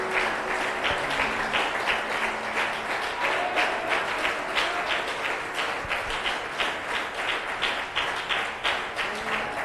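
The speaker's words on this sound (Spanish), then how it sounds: "Démosle un aplauso de alabanza al Todopoderoso." A church congregation at a Spanish-language service claps in praise of the Almighty, producing sustained, loud applause with a steady rhythmic pulse that runs unbroken throughout.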